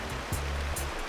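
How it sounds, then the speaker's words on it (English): A river flowing on the Buffalo National River on a chilly morning, a steady, close wash of water noise with a continuous low rumble and faint broadband hiss throughout. "Beautiful sound of the river."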